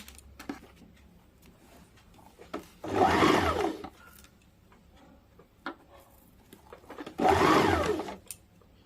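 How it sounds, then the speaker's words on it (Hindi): A sewing machine stitches a blouse sleeve in two short, close bursts of rapid whirring, separated by quiet pauses filled with light clicks and handling taps. "अब इसके ऊपरी हिस्से में भी सिलाई डाल देंगे।"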